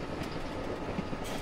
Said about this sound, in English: Or, no, it's the train.